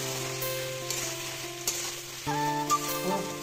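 Pakoras sizzle and bubble steadily in hot oil in a home kitchen pan. A close, continuous frying hiss carries occasional stirring scrapes and clinks, with no talking.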